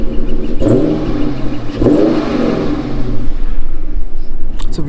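Deep V8 revs from a 2013 Dodge Charger R/T with all-wheel drive: two sharp throttle blips rise and fall in quick succession, followed by a sustained rumbling swell, loud and near with no talking.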